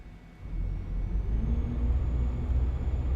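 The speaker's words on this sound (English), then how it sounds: "This truck does have mod sound in it." Modded MAN truck engine in Euro Truck Simulator 2, a steady low rumbling drone that swells slightly after the start and holds at an even level without pauses.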